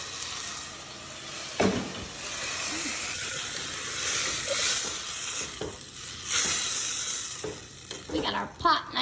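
Tomatoes sizzle and fry in a hot pot while being stirred, a steady hiss with scraping stir strokes and louder clatters near the end, close up with no talk, while a githeri snack is prepared.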